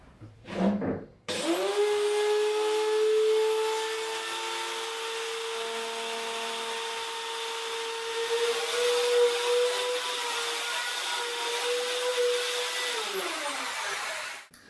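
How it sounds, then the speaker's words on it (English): A wood router starts up and cuts into a wood beam for an LED light build, holding a loud, steady, high motor whine for about thirteen seconds before spinning down, with no talking. "when you're starting your router and you have it in here"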